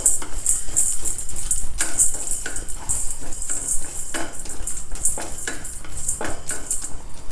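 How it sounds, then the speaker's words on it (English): Moong dal and chana dal dry roasting in a pan, grains rattling and scraped by a spoon against the metal in a steady, busy clatter, close and fairly loud with no talk. "Take 2 teaspoons of Moongdal and 2 teaspoons of Channa Dal. Dry roast them also."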